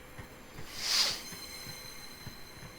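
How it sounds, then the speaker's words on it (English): A 12-car Javelin train on a railtour reversal at Sheerness, heard as a faint, low rumble with a steady rhythm of soft wheel thumps and a brief hiss in the middle. "Sheerness easily took a 12-car train"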